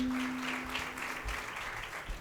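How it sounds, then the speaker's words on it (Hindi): A gathering at a religious question-and-answer session applauds a child for a correct answer: a short, fairly quiet burst of clapping from many hands that fades over about two seconds. "ताली बजाओ बच्चे के लिए।"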